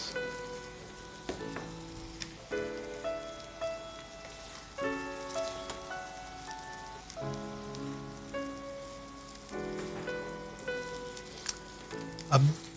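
Prawns hiss and crackle as they fry in a pan for nasi goreng, a steady, quiet sizzle that runs throughout beneath soft background music.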